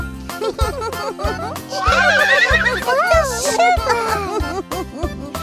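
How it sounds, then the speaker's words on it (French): A horse neighing and whinnying in a French-language Old MacDonald farm nursery rhyme, the call riding over a bouncy, steady musical backing with sung lines around it. "Et dans sa ferme, il y a un cheval"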